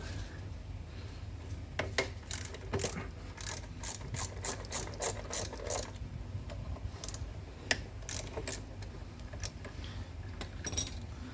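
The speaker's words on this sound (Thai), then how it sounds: "เราก็ใช้ บล็อกเบอร์แปดนะครับขันออกนะครับ" Ratchet wrench with an 8 mm socket unscrewing a bolt on a Toyota 1AZ/2AZ starter motor, a long run of quick metallic clicking bursts in an irregular rhythm, close and fairly quiet, with no talk.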